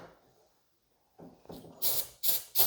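Several short bursts of aerosol spray hiss loudly, the last few in quick succession, after some quiet low rustling and handling noise, while working on a barn-find Yamaha SRV 540 engine.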